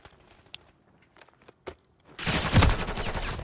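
Rapid automatic gunfire in a video game shooter match, a loud sustained burst that erupts after a quiet stretch of scattered footsteps and clicks.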